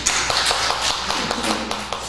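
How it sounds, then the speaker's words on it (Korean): A church congregation clapping together, a steady run of soft, quick claps filling the room for a couple of seconds at moderate distance. "박수 한번 치겠습니다"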